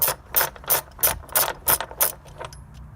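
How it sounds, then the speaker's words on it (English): A hand ratchet fitted with a 3/4 inch socket loosens a clamp bolt, giving about eight sharp, evenly spaced clicking bursts close to the microphone, with no speech. "We'll go to our bolt here on the clamp. It's a 3/4 inch socket. Put that on there. Loosen it up."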